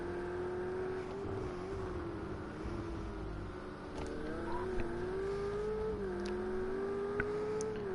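A GTE race car in a Le Mans racing video game holds a sustained, loud engine drone as it accelerates flat out down the circuit, the pitch gently rising and dipping with gear and speed, and no voices.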